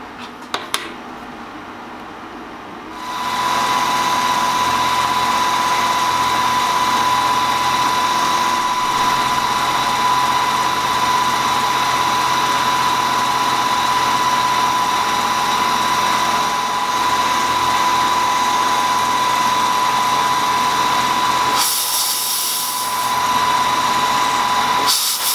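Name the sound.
machining corner of crankshaft counterweight in collet block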